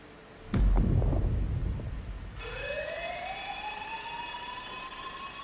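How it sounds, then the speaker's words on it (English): A wailing alarm siren in the anime Fire Force rises steadily in pitch after a sudden burst of loud noise, sounding alone and filling the scene. "The alarm!"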